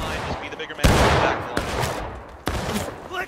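Black-powder musket volleys in the Civil War game War of Rights ring out as a few heavy, booming blasts spaced about a second apart, each trailing into a rolling crackle of scattered shots and commotion, with voices faintly mixed in.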